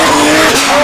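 Drift car at a DLGB round one class 1 qualifying event, engine roaring loud and close under full throttle while tires skim and squeal through a sustained slide, steady and unbroken throughout.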